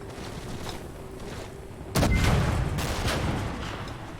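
An anti-tank gun firing APCR rounds in Gates of Hell, a World War II strategy game: steady battlefield rumble, then one sudden heavy boom that rolls on into a long low roar.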